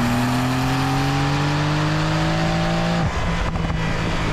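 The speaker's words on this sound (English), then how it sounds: "And just, man, that engine." A 2023 Porsche 911 Carrera Cabriolet's engine revs with a loud, steady climbing note up close, then drops sharply as the throttle lifts, followed by brief rumbling.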